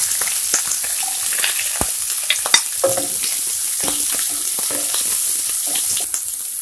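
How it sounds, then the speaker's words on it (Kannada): Onions sauté in a pan for a simple cabbage palya, a dense steady hiss of frying with frequent spatula scrapes and clicks against the pan, close and loud with no one speaking. "ಈರುಳ್ಳಿ ಸ್ವಲ್ಪ ಕೆಂಪಗಾಗುವವರೆಗೂ ಬಾಡಿಸ್ಕೊಳ್ಳೋಣ"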